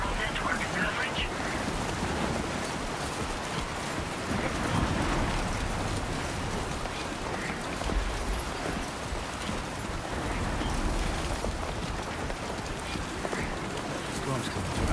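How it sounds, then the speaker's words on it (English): Heavy rain and thunderstorm noise in a video game, a dense steady wash of downpour with low rumbling thunder, continuous and loud for the whole stretch, with a horse clip-clopping through it. "Storm's coming through."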